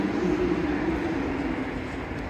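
Steady indoor ambience of the Moynihan Train Hall at Penn Station, New York City, on a quiet Sunday afternoon: a constant low hum and soft, diffuse crowd murmur, with no distinct events.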